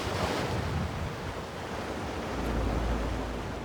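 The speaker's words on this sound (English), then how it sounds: "winds of up to 60 miles an hour are whipping up icy waves that are battering Dawlish" Icy waves driven by winds of up to 60 miles an hour batter the South Devon coast at Dawlish. They make a loud continuous roar of surf mixed with wind rumble, and a heavier crash swells near the end.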